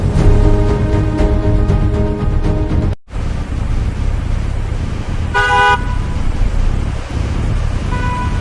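Car horn honking on a busy road in traffic behind a slow police vehicle, a short cluster of loud blasts amid steady engine and road noise.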